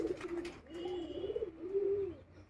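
Pigeons offered for sale coo nearby in low, rolling throaty phrases, several calls in a row, with faint chirps and light background noise.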